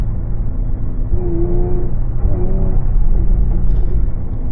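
A Jaguar F-Type fitted with a MADNESS GOPedal Plus pulls away from a dead stop, its engine rumbling loudly up close as the note climbs steadily, with no talking.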